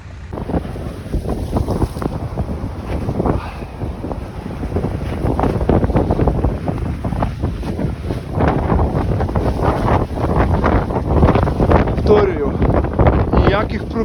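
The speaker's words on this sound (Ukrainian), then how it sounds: "Вітер просто неймовірний." Strong wind roars and buffets the microphone nonstop at a long-distance running championship, a loud, rumbling gusty noise with faint water sounds underneath.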